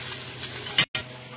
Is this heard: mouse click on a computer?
no